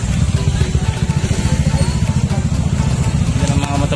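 Several motorcycles idle and rev close by at a checkpoint during a scooter ride event, a steady loud throbbing engine rumble with rapid pulsing beats and no pauses.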